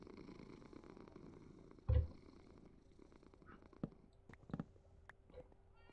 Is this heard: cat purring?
yes